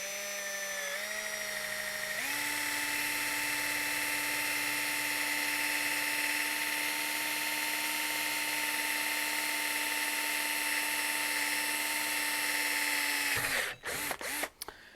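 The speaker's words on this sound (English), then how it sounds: "So let's go ahead and we're going to actually drill this, and I'm going to tap this for you." An electric drill whines steadily at close range while boring a hole in aluminum before tapping it, the motor pitch shifting slightly early on, then holding constant before stopping abruptly with a few brief handling clatters.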